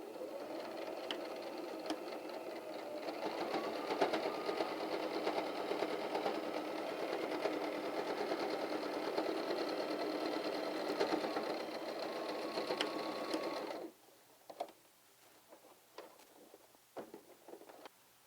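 A sewing machine stitches the opening of a fabric seed storage pouch shut, a steady rapid mechanical whirring for about fourteen seconds before stopping, followed by a few faint handling clicks and rustles.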